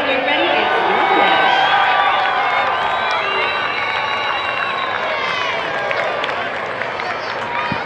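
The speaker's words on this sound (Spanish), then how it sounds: "cada vez que sale un jugador de Venezuela, toda la gente aplaude" A baseball stadium crowd at Clover Park in Florida cheers and applauds Venezuelan players at the World Baseball Classic. It is a loud, sustained roar of shouts and whistles with clapping underneath, and voices call out through it.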